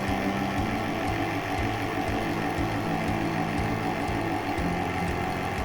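A vacuum degassing machine runs steadily while silicone mold mix degasses for jewellery rubber mold casting, a constant close mechanical hum with faint rhythmic pulsing and no talk.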